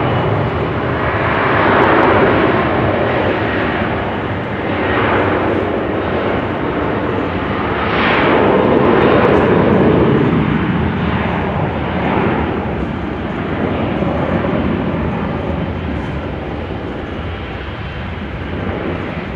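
A KLM Boeing 737 takes off at Amsterdam Schiphol on a showery day, a loud, sustained jet roar that swells and eases over about twenty seconds, heard alone without talk.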